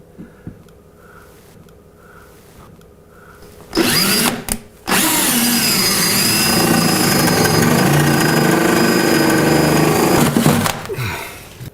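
After a quiet start, a power drill whines loudly, stops briefly, then bores steadily through a wooden cabinet for several seconds before cutting out.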